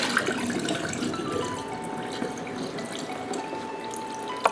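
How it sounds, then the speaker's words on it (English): Rinse water being drained from soaked sushi rice in a kitchen sink, a steady close trickle and splash of running water with small drips throughout, no talking. "Do it for a little bit, and then drain the whole water."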